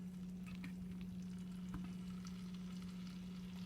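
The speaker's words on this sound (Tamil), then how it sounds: "இப்போ வந்து இந்த கத்திரிக்காய் வந்து இதை போட்டு வதக்க போகிறோம்." Brinjal sautés in hot oil for thokku, a faint, continuous frying hiss with a few soft stirring scrapes over a steady low hum, no voices.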